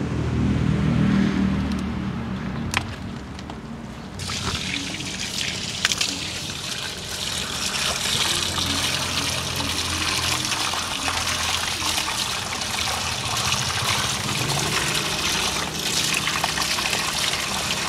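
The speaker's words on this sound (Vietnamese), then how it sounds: "Xịt nước mình xịt như thế này nó sẽ dễ ra cái phần đất này thôi." A hose or sprayer jets water onto plant roots to wash the soil away, a steady hissing gush with trickling and splashing that runs throughout, with a few sharp knocks early on.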